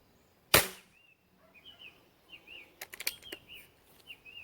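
A Beeman P17 air pistol fires once in a backyard, a single sharp, close crack followed by faint bird chirps and a few light clicks.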